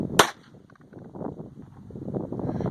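A single sharp gunshot fired at a clay target outdoors, loud and close, followed by low rumbling wind and background noise.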